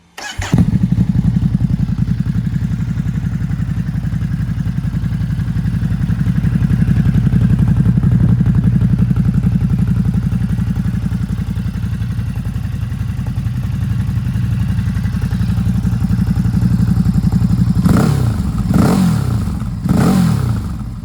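A 2023 Ducati Hypermotard 950 SP engine fires up through SC-Project SC-1 carbon exhausts and settles into a loud, deep, throaty rumble, steady throughout, with a few sharp revs near the end.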